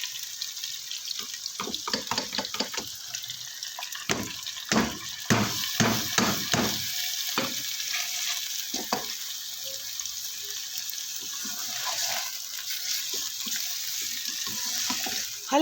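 Chopped onions and half a kilo of minced meat (keema) for aloo qeema hit a hot pan, giving a run of sharp crackling bursts early on that settle into a steady, close frying hiss.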